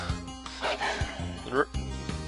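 Several sharp dog barks and yips from the Breath of Fire III game soundtrack, loud and close, interleaved with someone talking over them.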